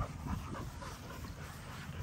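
Blue XL American Bully puppies make soft whimpers and small yips in a steady low rumble of close, muffled noise, with no clear barking standing out.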